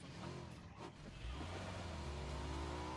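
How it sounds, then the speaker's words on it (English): A car driven in the video game PUBG, its engine revving up into a rising, sustained drone after some brief clatter, fairly loud and near, with no talk. "You guys take cars."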